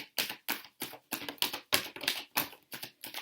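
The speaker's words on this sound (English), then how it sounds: "I'm going to continue to shuffle." Tarot cards are shuffled in quick, crisp bursts, about ten short riffling snaps in a steady rhythm, close and fairly soft with no voice over them.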